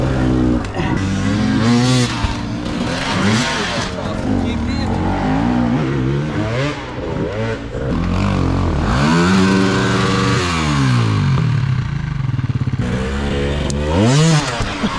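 An enduro motorcycle engine revs hard in rising and falling bursts, loud and close, with a voice talking over the throttle blips.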